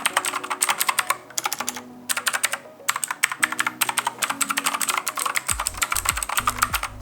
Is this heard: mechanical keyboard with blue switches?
yes